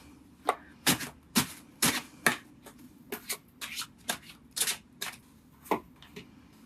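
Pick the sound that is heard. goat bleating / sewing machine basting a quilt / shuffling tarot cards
shuffling tarot cards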